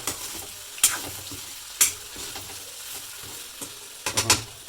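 Eggplant stir-fried with dried fish in a curry pan, with a steady close sizzle broken by sharp spatula scrapes about once a second, no talking.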